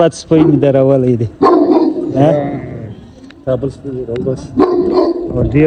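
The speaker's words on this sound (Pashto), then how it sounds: "او دا ډېر بد سپی مې درولی دی" A dog barks loudly and repeatedly at close range, with sharp barks and yips mixed in with speech, outdoors in a village.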